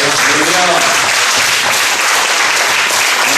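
A church congregation claps in praise to God, a loud, dense and even burst of applause filling the whole stretch, with a faint voice under it at first.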